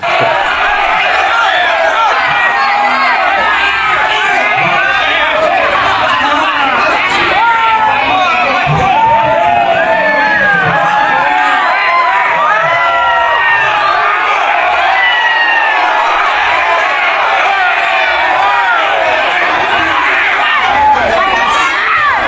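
Loud, dense crowd of many voices shouting and yelling together at a street protest in Pati, a continuous roaring commotion with overlapping cries throughout.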